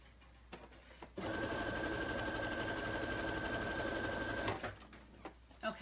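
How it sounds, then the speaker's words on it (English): A sewing machine runs in one steady continuous burst of stitching through dress fabric for about three seconds, with quiet handling noises before and after and no talk. "let me sew a little bit more"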